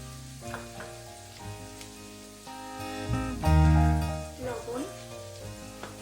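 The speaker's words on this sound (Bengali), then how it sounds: "টমেটো কুচি দিয়ে ভালো করে মশলাটাকে কষিয়ে নিতে হবে।" Chopped tomato frying in a pan with coriander powder, roasted cumin powder, chili powder and turmeric for a jackfruit-prawn curry: a continuous close sizzle that swells loudly after the halfway point, over steady sustained background tones.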